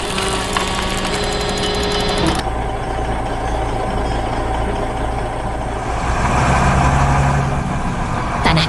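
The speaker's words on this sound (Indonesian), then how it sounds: "Sang ekskavator bekerja tanpa lelah membersihkan sisa-sisa galian itu." An excavator clears debris from a tunnel excavation. Its diesel engine drones steadily and loudly, with a brief shift in pitch partway through and a busy mechanical clatter underneath.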